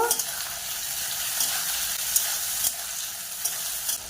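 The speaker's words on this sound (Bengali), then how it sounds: "এবার টমেটো কুচি দেব, কাঁচা লঙ্কা দেব, এটাকেও কিছুক্ষণ ভেজে নেব।" Chopped tomato and green chilies fry in a pan for chicken masala, giving a steady close sizzle. Occasional scraping stir strokes break through the hiss.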